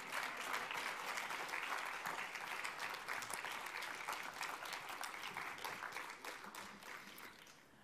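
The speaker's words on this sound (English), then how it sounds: "More clapping. Sorry, don't think you can stop, because you can't." Audience applause for a media prize winner at an award ceremony, dense sustained clapping from a large crowd that stays loud throughout and eases slightly toward the end.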